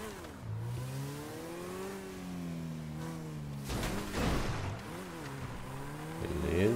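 A car engine in a GTA V Online street race revving hard and rising in pitch through repeated gear changes, close and steady, with a brief rough burst in the middle.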